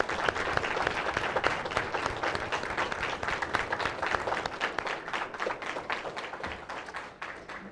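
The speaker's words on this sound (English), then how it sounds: "can we do one more round of applause for everybody?" Audience applause fills a school board meeting room, dense steady clapping from many hands that carries throughout before thinning slightly toward the end, with no talk over it.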